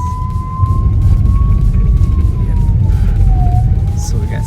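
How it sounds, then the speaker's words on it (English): An ambulance siren passes on a street outside a biryani restaurant in Barakpur, its single wailing tone sliding slowly up and down over heavy low traffic rumble, loud and close. "we'll just wait for the ambulance to pass."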